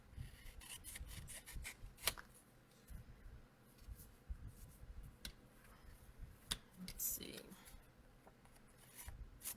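Scissors trimming pieces of paper card, quiet snips and rubbing at close range, scattered over a low background with a soft voice now and then.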